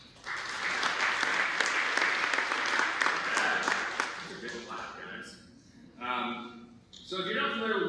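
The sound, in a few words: audience round of applause at a conference talk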